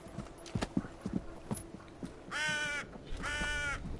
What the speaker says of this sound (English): Oh, it's one of Odin's crows.